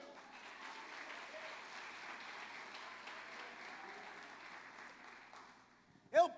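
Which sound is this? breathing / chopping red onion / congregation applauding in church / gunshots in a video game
congregation applauding in church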